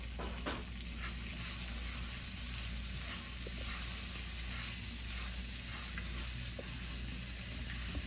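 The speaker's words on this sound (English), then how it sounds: "I'll go ahead and add in my onion. And I'll just let those cook for about 1 minute" Onions cooking in a pan for Mexican rice give a steady, even sizzle and frying hiss throughout, fairly close with no talking.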